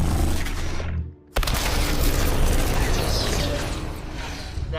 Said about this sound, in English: It should have exploded, then I heard the sound effect